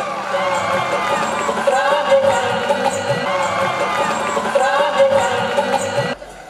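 A noisy crowd of students gathered at Sunrise Day, a coaching institute's event in Khargone, making a dense, steady babble of many voices with cheering and shouts that carries on without a break, then drops off sharply near the end.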